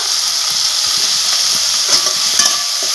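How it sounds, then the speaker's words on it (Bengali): Spiced masala sizzling and being stirred in a pan after turmeric powder is added, a loud continuous hiss with soft scraping strokes throughout. "এই হলুদ গুঁড়োটা দিয়ে আর একটু আমি ভেজে নিব"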